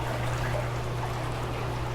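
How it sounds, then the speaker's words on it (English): Spa solution poured from a bottle into hot tub water, a continuous steady trickling stream over a low hum, close and even throughout without talk. "take the cap off and pour the whole bottle in"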